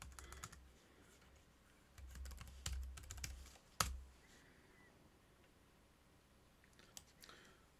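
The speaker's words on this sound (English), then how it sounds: "And we have to type our password in here." Password typed on a computer keyboard during a software install on a Raspberry Pi, heard as quiet, scattered key clicks in short bursts with pauses, close and faint in an otherwise still room.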